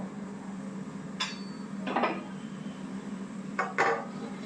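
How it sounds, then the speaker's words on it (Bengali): A lid is set onto a pot of boiling fish, giving a few faint metallic clinks and knocks spaced apart over a steady low hiss. "এখন ঢাকনা দিয়ে ঢেকে দিচ্ছি তিন চার মিনিটের জন্য"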